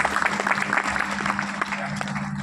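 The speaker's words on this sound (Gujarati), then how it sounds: "તીર્થે જઈને તાળીઓથી વધાવો" Clapping from a gathering at a Gujarati bhajan satsang, quick rhythmic claps over a steady musical drone, fairly close, with voices audible alongside.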